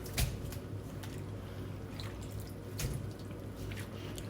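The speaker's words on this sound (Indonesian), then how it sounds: "Buang dulu air garamnya, tiriskan, baru kita cuci" Salt water being poured off soaked radish before washing, with a steady close trickle and splash of draining liquid and a couple of wetter squishy bursts near the start and middle.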